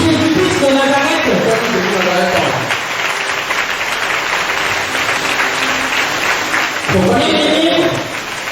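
A church congregation applauds loudly and steadily for several seconds, a dense close wash of claps with voices calling out at the start and again near the end.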